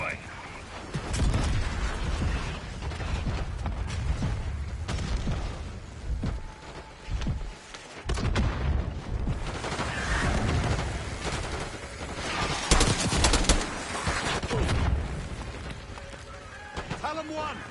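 Mortar rounds and gunfire thud and crack through a Black Ops 6 battle, with heavy booming impacts and dense shooting layered over a constant rumble, loud and close. Voices talk now and then under the noise.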